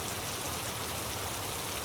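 Steady heavy rain falls in a continuous, even hiss of countless drops, with no voices and no pauses.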